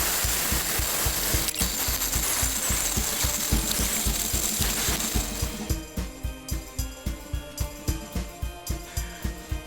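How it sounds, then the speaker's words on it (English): An electric mixer whisks egg whites to soft peaks for royal icing, giving a dense mechanical whirring that turns into a fast, regular ticking rattle in the second half. "we're going to whiz the egg whites up to soft peaks"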